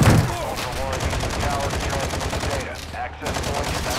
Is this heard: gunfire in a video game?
yes